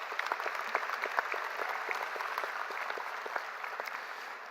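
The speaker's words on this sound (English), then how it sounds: "A round of applause, please" A high school graduation audience claps in a steady, dense round of applause, moderately loud and unbroken by any talking.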